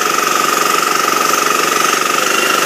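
A small, loud air compressor runs continuously with a steady mechanical drone and a sharp whine, as used for blowing air through fitted nozzles while cleaning a typewriter; no talking.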